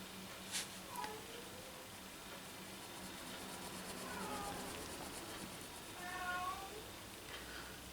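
A large house cat yowls several times, drawn-out wavering meows rising and falling at moderate distance, with a couple of short sharp sounds early and faint low background noise in a quiet room.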